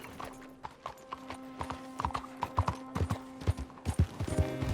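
Horse hooves clip-clop in a steady trotting rhythm in Red Dead Redemption 2, fairly close, with a faint tonal hum beneath and no talking.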